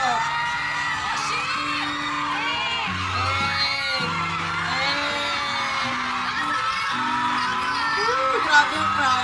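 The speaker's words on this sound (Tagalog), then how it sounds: "Grabe yung crowd." Concert crowd at a performance cheering and whooping continuously, dense and loud, with a voice speaking over the din.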